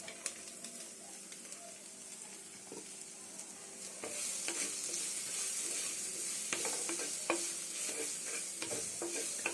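Finely chopped onions frying in a pan for a Kongu-style chicken curry, with a continuous hissing sizzle that grows louder partway through and frequent spoon scrapes and taps from stirring, heard close up.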